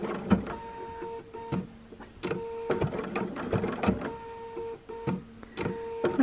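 A sewing machine stitching raw edge appliqué on a penguin quilt, running in short bursts with steady mechanical whirring and pauses between stitches as the fabric is rotated, close and clear.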